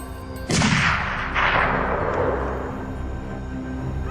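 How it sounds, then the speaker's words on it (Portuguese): Two loud gunshots ring out during a wild boar hunt, the first sharp blast followed about a second later by a second, each trailing into a long echoing rumble. "Os disparos ecoavam pelo ar"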